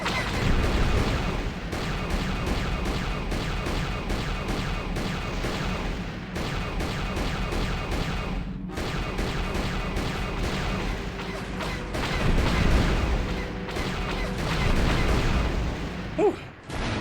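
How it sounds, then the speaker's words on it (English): Starship gun turrets in Star Wars: KOTOR fire at incoming Sith fighters, a loud, continuous run of rapid laser blasts and crashing impacts layered over steady background engine noise. "Incoming fighters. Quickly, to the gun turrets."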